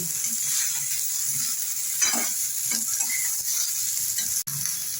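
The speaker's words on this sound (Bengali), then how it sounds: "এটাকে আমি নেড়ে নিচ্ছি এবার ঝিঙেটাকেও ভাজা ভাজা করে নিচ্ছি" Potato and ridge gourd stir-fried in a pan give a steady, close sizzle of hot oil, with occasional scraping taps of a spatula moving the pieces around; no one speaks.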